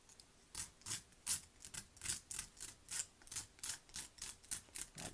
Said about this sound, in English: I'm going to use sandpaper to sharpen the edges, even out the edges